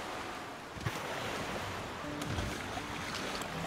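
Rushing river water from The Flame in the Flood flows with a steady broadband wash and occasional splashy surges, continuous and fairly loud with no talking over it.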